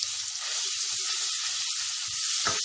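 Garlic sizzles in hot oil for Lahori chikar cholay, a steady close hiss with a sharper crackle burst near the end and no voices.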